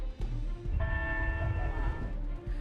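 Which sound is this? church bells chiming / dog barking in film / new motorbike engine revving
church bells chiming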